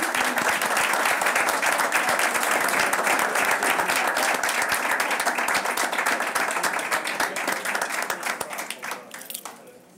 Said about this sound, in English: Please, another round of applause for these guys.